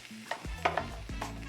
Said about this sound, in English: Give these one more little mix, a little stir.